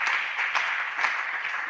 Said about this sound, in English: a round of applause, please, to all of our speakers